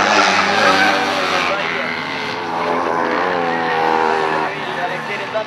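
Junior-category race cars roar past a spectator grandstand at a circuit, a loud engine wash that swells and fades as they pass, heard under continuous commentary.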